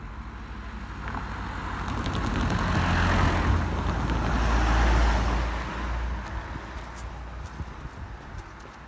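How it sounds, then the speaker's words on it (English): Road traffic rolls steadily past a level crossing, a broad wash of engine and tyre noise that swells toward the middle as vehicles go by close, then eases off. "Just wait for some of these cars to pass and then we'll get across the other side"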